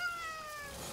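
A cat in the Garden Simulator video game lets out a single short, faint, drawn-out meow that falls slightly in pitch.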